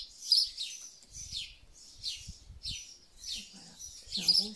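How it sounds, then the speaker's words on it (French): A common redstart sings outdoors from somewhere above, repeating short high bright phrases at a steady pace, fairly distant and soft, with quiet low rumbles and a brief voice between phrases. "j'ai un rossignol des murailles là-haut qui est magnifique"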